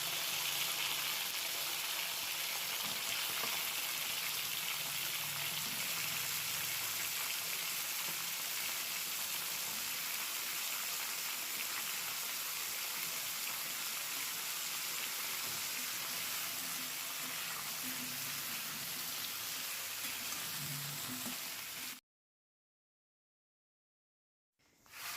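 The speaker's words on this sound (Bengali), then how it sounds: "আলু আর সমস্ত সবজি আমি একসঙ্গে দিয়ে একটু হালকা করে ভাজা ভাজা করে নেব" Potatoes and mixed vegetables frying lightly in oil with five-spice and a bay leaf for Bengali shukto, a steady close sizzle with faint stirring throughout, then silence near the end.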